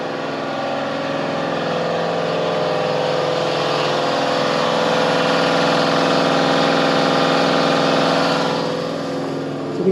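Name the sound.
air compressor running an oil extractor pump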